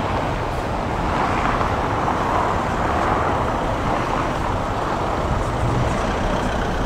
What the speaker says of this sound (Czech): teď tady zabočilo auto